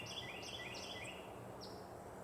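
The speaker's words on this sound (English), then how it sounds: "Now you hear that bird right there." A bird calls in the morning with a few high, thin chirps over a steady outdoor hiss, faint and somewhat distant.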